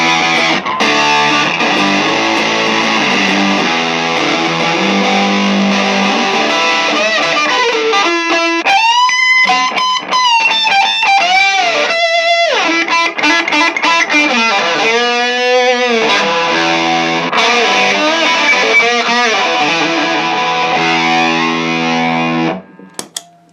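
An electric guitar plays through a Pro Co Rat 2 distortion pedal at heavy gain, giving loud, saturated chords and singing lead bends that run continuously before cutting off at the end.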